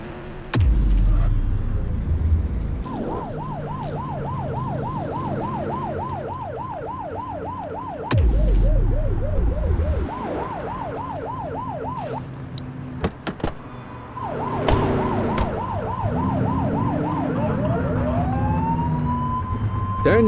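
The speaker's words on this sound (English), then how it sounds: "Turn that siren off." A police car siren in The Precinct cycles through rapid wailing yelps and a longer rising wail, starting and stopping several times over about twenty seconds. Sharp bursts of traffic and street noise cut in, and a voice speaks briefly.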